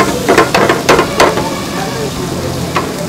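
Hot oil sizzles loudly as tempering spices and garlic hit the pan for dal at a Jaipur dhaba, with a few sharp crackling bursts early on before settling into a steady hiss.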